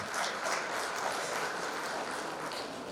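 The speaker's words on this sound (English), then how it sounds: "Please join us in welcoming our panelists to the stage. A big round of applause for them." An audience at a skill-development panel event applauds to welcome panelists to the stage, a soft, even spread of clapping heard from a distance.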